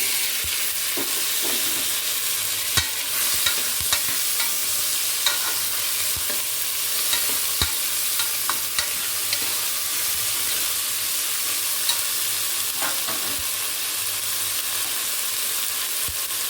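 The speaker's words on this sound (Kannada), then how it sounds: "ಇವಾಗ ನೋಡಿ, ಆಲೂಗೆಡ್ಡೆನ ಹಾಕ್ಕೊಳ್ಳೋಣ." Potatoes fry loudly in a pan with onions, a dense continuous sizzle broken by repeated scraping clicks from a spatula stirring them, heard up close without speech.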